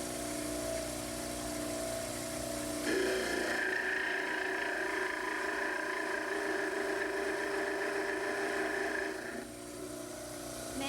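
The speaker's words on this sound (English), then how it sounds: "Set the back of the mandibular cast flat on the table of the model trimmer. And trim the base." Dental model trimmer grinding the base of a mandibular stone cast, a steady whirring motor with a sharper abrasive grinding tone that rises when the cast meets the wheel, then eases back as contact ends.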